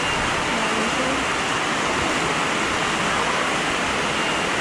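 Floodwater surges past during Typhoon Dante on a rural farm in Occidental Mindoro after a dam was left closed, a loud, constant broadband roar of rushing water filling the whole clip.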